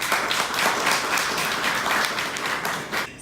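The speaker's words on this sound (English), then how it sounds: "Give him a round of applause." Dense crowd applause filling a live event space, continuous and fairly loud throughout, tailing off slightly at the very end.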